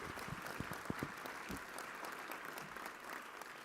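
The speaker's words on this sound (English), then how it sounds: "deserves a round of applause" Applause at a roast dinner for a state legislator, a steady round of clapping from a seated crowd with a few sharper individual claps early on, quiet and somewhat distant.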